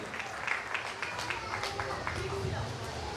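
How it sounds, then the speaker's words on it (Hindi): Scattered hand clapping from a congregation at a Holy Communion service and Father's Day celebration, sharp claps sounding moderately close under continuous talking from the front. "मेरी बहन जो है वो तालियां मार रही है"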